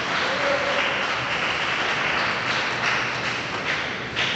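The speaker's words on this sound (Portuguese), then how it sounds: "dê uma salva de palmas para Jesus" Dense applause from a large church congregation fills the space, steady and enthusiastic for several seconds before easing slightly at the end.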